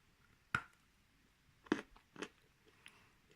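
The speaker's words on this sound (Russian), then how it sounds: "Светлые кусочки также легко откусываются." Edible Bashkir clay is bitten and chewed up close, producing a few sharp, crisp crunches followed by softer, quieter chewing in a near-silent setting.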